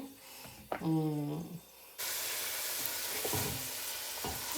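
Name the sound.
onions and celery frying with garlic and red chilli flakes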